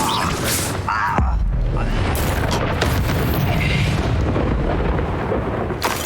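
In the Hogwarts Legacy video game, the Incendio fire spell sets off a deep booming blast that rumbles into a sustained roar, with a spoken word heard briefly.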